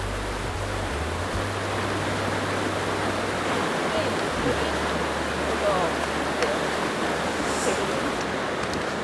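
Mountain stream in Odaesan National Park rushing steadily beside a hiking trail, a continuous broad wash of flowing water heard close with a low rumble underneath and no talking.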